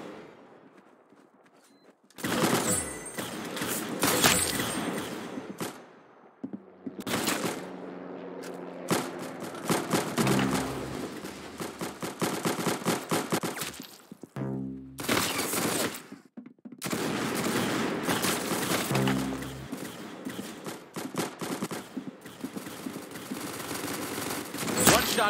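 Gunfire in the Roblox game Arsenal crackles in repeated bursts of rapid shots, loud and dense, with brief gaps and a few footsteps between volleys over about twenty-five seconds.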